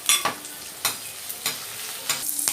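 Green chilies and curry leaves frying in hot oil for a mint chutney, with a steady sizzle broken by several sharp stirring scrapes at regular intervals, close and moderately loud, no talking.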